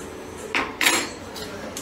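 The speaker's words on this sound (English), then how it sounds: "Let me just grab a spoon here for tasting" A metal spoon is pulled from a cutlery drawer in a small home kitchen while hamburger soup with tomato paste cooks, giving two or three close, bright clinks and a rattle of silverware, with no talk.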